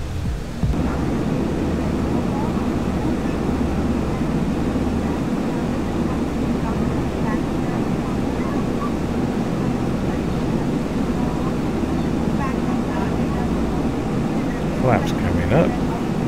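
A PMDG DC-6B piston airliner climbs out after takeoff in X-Plane 11, its radial engines giving a steady, loud rumbling drone throughout, with a few faint clicks near the end and no talk over it.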